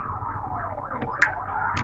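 Sirens wailing outside, a rising and falling electronic tone heard at moderate distance, steady through the short moment.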